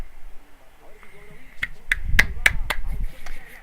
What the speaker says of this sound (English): Can't do nothing but clap.